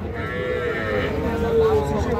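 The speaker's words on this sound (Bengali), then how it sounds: "আমাদের সামনে আপনারা কিছু ছোট ছোট সার বাছুর দেখতেছেন" Cattle at a livestock market where young bull calves are sold, with a sustained low moo close by over a murmuring crowd.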